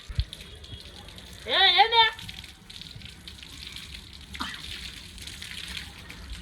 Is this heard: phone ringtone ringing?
no